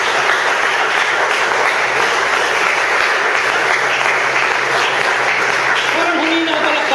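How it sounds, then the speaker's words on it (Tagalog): A church congregation claps steadily throughout, a sustained, fairly loud wash of applause with a low background hum. "Palakpakan natin ang ating Panginoon."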